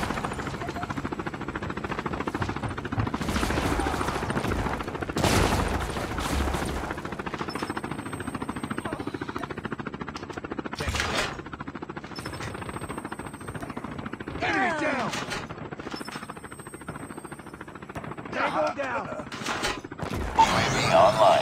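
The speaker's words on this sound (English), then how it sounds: "Friendly deployed chopper gunner." A chopper gunner helicopter fires in an online shooter game, with bursts of rapid gunfire and mechanical clatter over rotor noise, mixed with game beeps and effects while a voice announcer calls out events.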